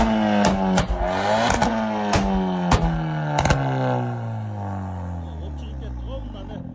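A 2017 car with a 1.6 turbo petrol engine revs hard several times in short sharp bursts, rising and falling, then settles into a falling idle drone, close and loud.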